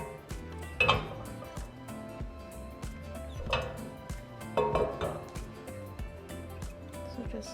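Caramel transferred into a bundt pan, with metal pan clanks and utensil scrapes and clinks arriving in a few louder bursts over a soft kitchen background.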